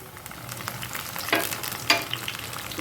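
Garlic and ginger paste fry with onions in a hot pan, giving a loud, continuous sizzle up close with a couple of sharp stirring scrapes.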